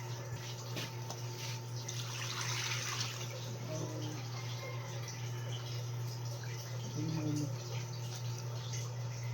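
Tap water runs into a bucket in a steady, moderately quiet gushing stream that goes on throughout, with a low hum underneath and faint voices in the background.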